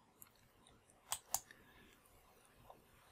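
Two crisp clicks from a computer mouse sound in quick succession, close but quiet over faint room noise, with a few softer ticks around them.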